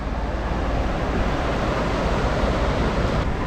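A waterfall in rural Kerala rushes close by, a steady dense roar of falling water with no voices over it.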